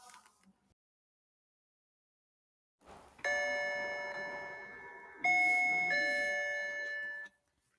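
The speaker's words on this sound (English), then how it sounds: "George was alone this morning looking at the picture book when the doorbell rang" A ding-dong doorbell chimes clearly in a quiet room, a two-tone ring followed by a second ding-dong pair, bright and resonant with ringing tails, after a brief moment of near silence.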